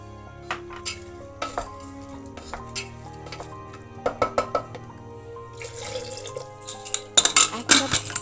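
Soaked dal being stirred into sizzling oil with salt and sambar masala, with intermittent scraping clatter of a spoon against a pot and some splashing, louder toward the end.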